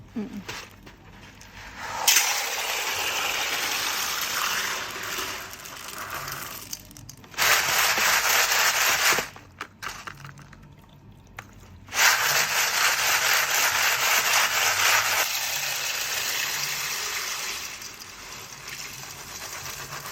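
LECA hydroton clay balls are rinsed with water, giving long loud rushing, splashing bursts close up. The bursts come in several spells with short quiet breaks between them.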